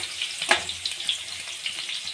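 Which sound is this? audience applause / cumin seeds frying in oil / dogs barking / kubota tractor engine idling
cumin seeds frying in oil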